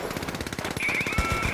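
Rapid automated turret gunfire in the first-person shooter The Finals, a dense, fast mechanical burst of shots running throughout, loud and close, with a bright sustained electronic tone joining partway through.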